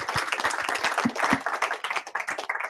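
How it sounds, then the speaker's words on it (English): Audience applause at a Python programming meetup bursts out as quick overlapping claps from a modest crowd, loud and close at first, then thinning slightly toward the end. "Well, in that case, another round of applause, please, for Aaron."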